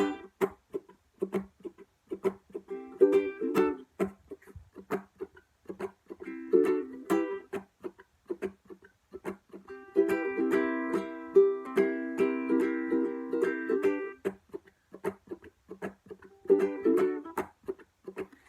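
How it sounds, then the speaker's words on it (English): Ukulele chords strummed in a rhythmic pattern, each strum quickly choked off into a percussive muted chuck, fairly quiet and close. "this part is going to involve strumming and muting"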